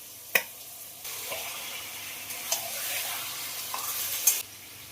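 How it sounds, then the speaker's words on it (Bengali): Curd-marinated chicken going into a pan of softened tomatoes: a sharp clatter, then a continuous sizzle with scattered scrapes and knocks of a spoon against the pan, close by. "এবার দিয়ে দেবো দই দিয়ে মাখানো চিকেন"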